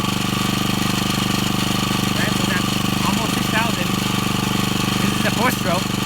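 A Firman generator engine on its first start and break-in run, revving close to 6,000 rpm, drones steadily and loudly up close from start to finish, with faint chirps over the top.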